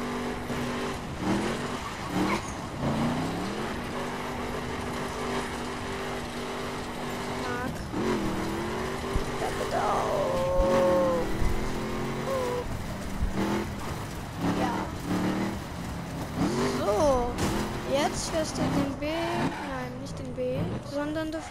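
A BMW X6 M driven hard in a racing game, the engine climbing and falling through repeated revs and shifts, with tire skids, while people talk over it in German.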